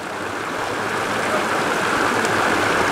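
A very cold mountain stream near the Muktinath Temple rushes and splashes in a steady, loud, broadband wash with no voices over it.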